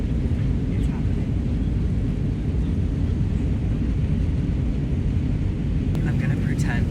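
Steady airplane cabin roar during flight, a loud continuous low rumble and broadband hiss that holds evenly throughout with no speech, close and enveloping.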